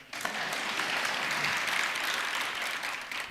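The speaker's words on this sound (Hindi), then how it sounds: "सही है तो ढंग से ताली बजा।" An audience at a spoken discourse claps together in a dense, steady burst that starts abruptly, holds at an even level for a few seconds, then drops away.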